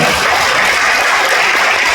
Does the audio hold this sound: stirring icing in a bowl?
no